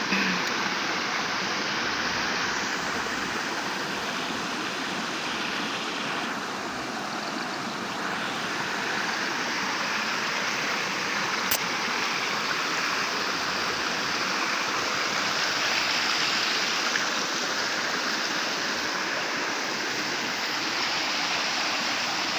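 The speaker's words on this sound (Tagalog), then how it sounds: "Ganda yung ilog." River water rushes in a steady, broadband wash near a farm, loud and continuous throughout, with no voices.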